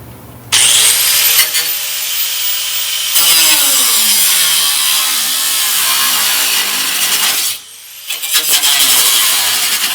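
A power cutting tool slices through a rusted steel body panel on a 1970 Challenger, running as a loud continuous high-pitched whine and grind for several seconds, stopping briefly and then restarting.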